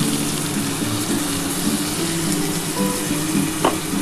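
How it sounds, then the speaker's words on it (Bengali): A little water goes into a cauliflower and potato curry frying in the pan, with a continuous loud sizzle and bubbling hiss throughout and no voices. "এবার আমি জল দিয়ে দেবো আমি অল্প করে কিন্তু জলটা দেবো"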